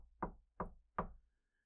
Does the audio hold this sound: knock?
yes